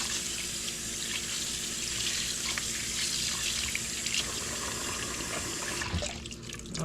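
Tap water runs steadily into a sink while carrots are washed under it, a close, constant splashing rush that is cut off near the end, followed by a few faint handling clatters.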